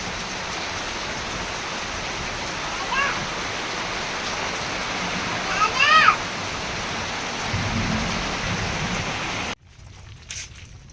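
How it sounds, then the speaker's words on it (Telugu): Light rain falls over a village as a steady, even hiss of drops that swells slightly at times, then cuts off abruptly near the end. "ఒక లైట్గా వర్షం పడుతుంది."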